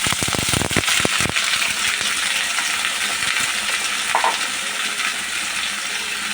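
Vegetables hit browned onions in hot oil for a silver carp fish curry: a sharp burst of sizzling and a few clattering knocks as they land, then a steady close frying hiss with light stirring.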